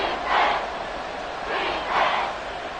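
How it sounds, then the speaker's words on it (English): Stadium crowd in Madden 24 roaring at Arrowhead in swelling waves, with two loud surges rising and falling over a steady din. "The Arrowhead crowd in full roar"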